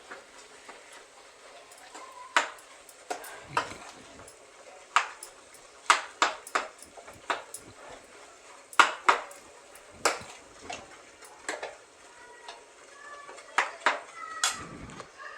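A spoon clatters and scrapes against a metal pot while mashed potatoes are mixed for a Maharashtrian puri bhaji. The sharp, irregular clinks are close and repeated, with quiet between strikes.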